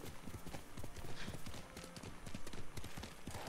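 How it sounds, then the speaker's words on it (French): Rapid, steady clip-clop of horse hooves galloping in the Ghost of Tsushima video game, a continuous rhythmic drumming over ambient game sound. "Je prends pas souvent le cheval."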